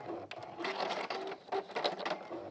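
Sewing machine stitching the side seams of a one-piece fabric go bag, running in steady bursts of rapid needle chatter with short pauses between runs, close and clear with no talking.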